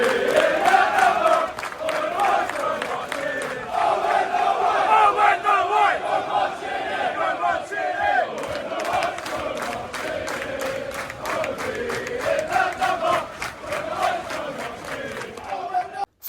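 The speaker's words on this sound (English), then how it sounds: "Fulham fans were very loud" Fulham supporters chant loudly and continuously in the stands at Craven Cottage during a match against Crystal Palace, with the massed voices rising and falling as a dense, reverberant crowd roar.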